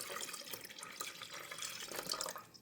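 Water poured into a floating bottle cauldron over its pump, a continuous splashing, trickling flow with bright gurgles, close and moderately loud without a break.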